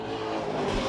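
A number 14 2015 Chevy Monte Carlo late model race car roars during qualifying at La Crosse Speedway, a brief, steady engine drone that holds even throughout.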